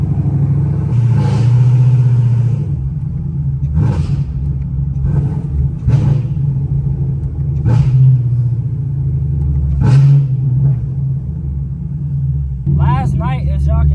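Modified, cammed Camaro ZL1 with an FBO setup, its engine rumbling loud and close with a steady low drone and several short rev blips at regular intervals, ending in a brief high whine.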